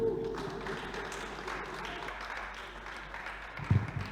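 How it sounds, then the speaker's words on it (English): An audience at a one-day peace and security summit applauds, a steady, moderately distant wash of clapping that holds for several seconds with a slight swell near the end. "Now we give a better round of applause."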